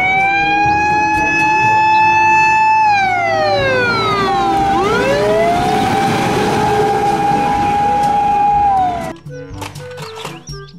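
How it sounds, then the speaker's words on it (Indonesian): Toy fire engine truck siren wailing loudly and steadily, sweeping up and down in pitch over several cycles before cutting off near the end, leaving quieter clicks and rattles. "Mobil truk pemadam kebakaran."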